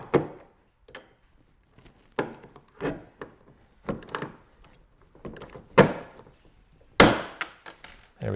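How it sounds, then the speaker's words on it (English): A rivet gun fastens a Bixpy Willfit gudgeon mount with sharp, close clacks and thunks at irregular intervals, growing louder and busier toward the end. "I don't think this rivet gun is adjusted well"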